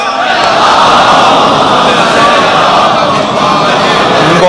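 A large crowd loudly recites salawat together at a Shia majlis, a dense, steady wash of many voices in unison with no single speaker standing out.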